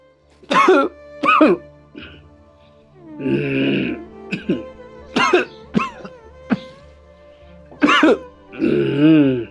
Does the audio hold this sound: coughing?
yes